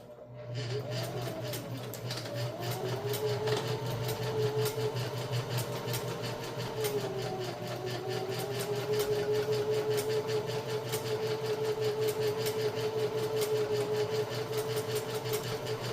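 Sewing machine running a straight stitch on a tote bag, a steady mechanical whir with rapid needle ticking that holds at a fairly even speed for several seconds, close and moderately loud.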